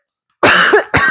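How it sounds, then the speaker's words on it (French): A single person coughs hard twice in quick succession, a long rough cough followed by a shorter one, loud and close, with no speech around it, recorded indoors during houseplant repotting. "Je vais tousser."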